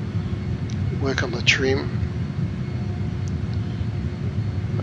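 A JAS-39 Gripen jet engine throttled back during an approach in a flight simulator, heard as a steady low drone throughout with a brief swell midway, while a voice speaks over it.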